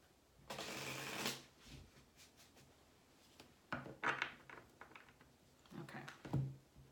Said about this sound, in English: Let me give this deck one more shuffle.